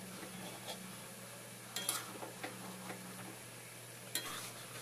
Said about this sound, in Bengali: সবজিটা একটুখানি নেড়ে দেবো যাতে তলায় ধরে না যায়।